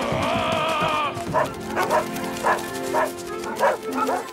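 Cartoon dogs bark in a steady series of about seven sharp yaps spaced roughly half a second apart, following a brief voice or tone at the start, in an animated children's adventure.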